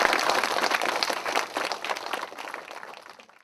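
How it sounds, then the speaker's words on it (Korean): An audience at a philosophy lecture claps warmly to welcome the speaker, with dense close applause that starts loud and slowly tapers off over a few seconds. "큰 박수로 맞이해 주시면 감사하겠습니다"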